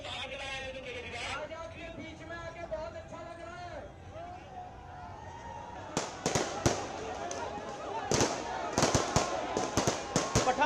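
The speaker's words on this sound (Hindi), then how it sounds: "पटाखे जला रहे हैं आम आदमी पार्टी के कार्यकर्ता।" Aam Aadmi Party workers set off firecrackers outdoors. Sharp bangs and crackles burst repeatedly in the second half over crowd noise, and a voice talks throughout.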